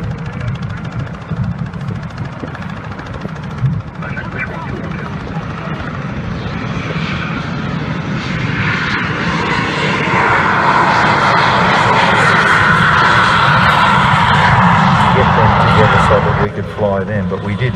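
Aircraft engine roaring overhead at the Wings Over Illawarra 2017 air show, loud and continuous with a droning rumble that swells and holds strong as the plane passes, and speech is heard along with it.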